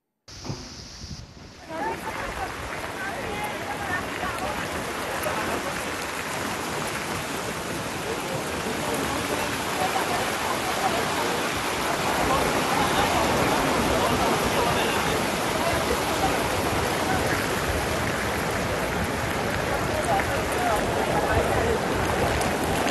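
Heavy rain and floodwater pour through the waterlogged streets of Vasai, where cars are stuck in roughly waist-deep water, making a loud, continuous broadband rush that swells slightly and never pauses.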